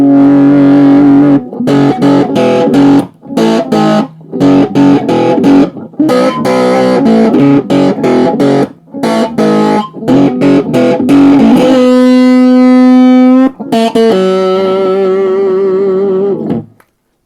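Heavily distorted electric guitar through a Fender Japan amp at full distortion plays loud chords and riffs with short breaks, ending on sustained ringing notes.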